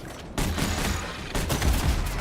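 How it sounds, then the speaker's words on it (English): Grenade launchers in the game Anthem fire smoke grenades in a dense, continuous barrage of bursts and booms. A short quiet gap comes first, then steady loud firing that swells again near the end. "why did they do smoke effects on every grenade launcher?"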